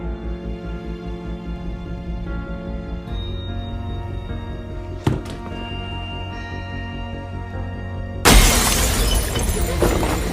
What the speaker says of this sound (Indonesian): botol wine yang ingin ia ambil tiba-tiba pecah